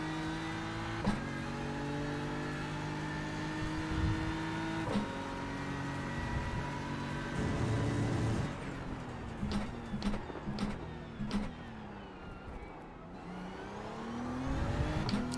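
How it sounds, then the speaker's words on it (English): A race car engine in the iRacing sim game drones at high revs, its pitch stepping through sharp gear shifts and then falling and climbing again through corners, steady and moderately loud with no one speaking. "What, as in my engine, Benji?"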